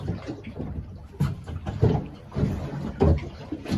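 Water slaps and sloshes against the hull of a small fishing boat in irregular bursts, rising and falling as the craft rocks in a choppy sea off a coast on a cold winter day.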